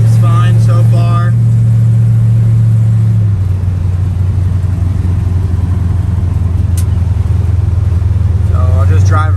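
A 1951 Chevy 3100 pickup engine drones steadily while driving, a constant low rumble close by, with someone talking briefly over it at the start and again near the end.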